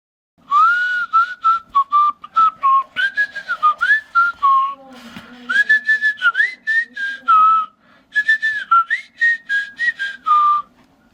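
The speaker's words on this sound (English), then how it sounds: "Now it's time to hear the whistling radio." A person whistles a lively melody alone, close and clear, in phrased bursts with short pauses and sliding pitch changes, breaking briefly midway before resuming.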